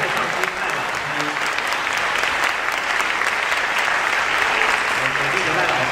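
A concert-hall audience at a string ensemble performance gives a conductor steady, dense applause that holds at an even, full level throughout, with a faint voice underneath.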